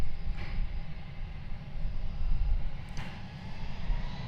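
A Spirit Airlines jet departing DFW Airport gives off a loud, continuous low engine roar that swells and holds steady, heard from the ground.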